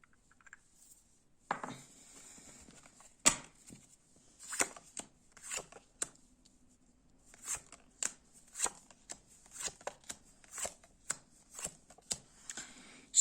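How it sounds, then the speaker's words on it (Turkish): Tarot cards being shuffled and drawn from a deck one by one, making soft papery slaps and flicks in an irregular rhythm, close and quiet with no talk. "Ondan sonra 7 kart çekip bakalım açılımına"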